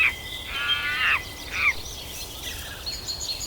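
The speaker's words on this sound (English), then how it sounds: "A chirping sound echoed in the wind," Bird calls ring out in short bursts, a few chirping, warbling notes over a soft background hiss, fairly close, with quieter calls trailing off afterward.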